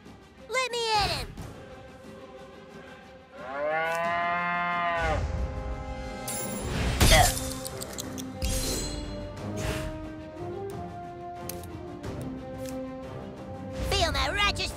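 A cartoon cow in the South Park: The Stick of Truth video game moos amid game music and effects, with voices talking over parts of the scene.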